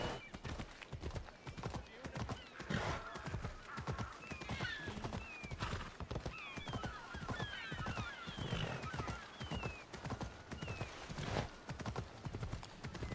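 Rapid hoofbeats clop steadily as a horse gallops in the video game Assassin's Creed Odyssey, with several whinnies breaking in over the rhythm and some talking alongside.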